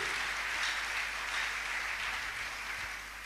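A church congregation applauding, dense sustained clapping from many hands that fills the room evenly and eases off slightly at the end.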